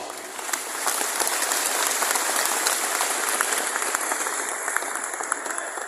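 An audience at the Partai Ummat national working meeting claps loudly, a dense, steady burst of applause from a large crowd lasting several seconds.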